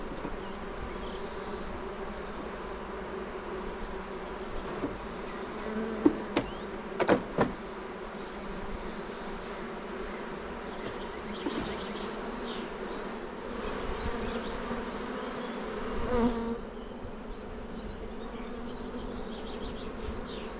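Honeybees buzz in a steady, dense drone while frames are shaken during a shook swarm, with a few sharp knocks and thumps of the frames cutting through the hum partway in.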